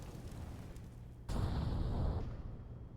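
A grenade blast in Counter-Strike on the Mirage map, a muffled boom that lands suddenly partway through and rumbles on under a low, faint background of game ambience.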